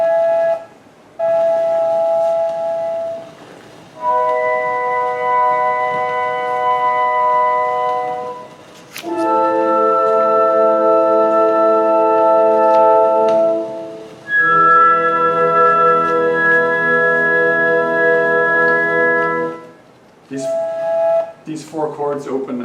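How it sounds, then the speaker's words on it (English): Four sustained orchestral chords open Mendelssohn's overture to A Midsummer Night's Dream, each held chord rich in layered tones and separated by brief near-silences, played alone without talk. "These four chords open a wonderful composition, Midsummer Night's Dream, which is meant to be accompaniment to the famous play by Shakespeare."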